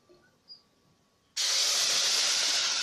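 Water poured into a hot pot of golden toasted rice sets off a sudden loud, steady hiss of steam that bursts in after a near-silent start and keeps going.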